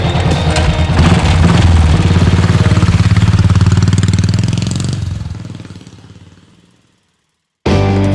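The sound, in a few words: 500cc Royal Enfield Thunderbird motorcycle engine riding off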